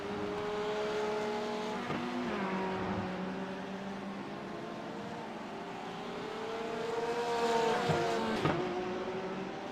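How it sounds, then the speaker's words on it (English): Race cars including a Porsche lapping Daytona in a racing game, engine tones rising and falling through gear changes as cars pass, with a louder close pass near the end and no talk. "in a good battle here with Ryan Glover, as they are coming out of the International Horseshoe into the kink"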